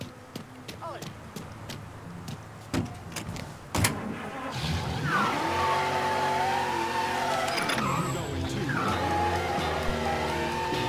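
In Mafia III, clicks and a door slam come first, then a car engine starts and drives close by, revving up and down with occasional tire noise, while someone talks intermittently.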